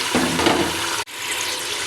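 About three quarters of a kilo of boneless beef fries in a pressure cooker pot for nihari, a loud, hissing sizzle that briefly cuts out for an instant and then carries on.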